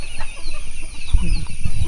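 Red junglefowl calling on a small farm in Satun, Thailand, loud and close, with clucking fowl sounds over a steady background hum.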